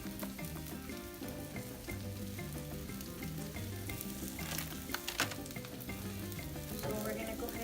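A smoked lamb omelette sizzles in a pan, a constant low frying crackle heard close up with a few brief knocks partway through, and no speech.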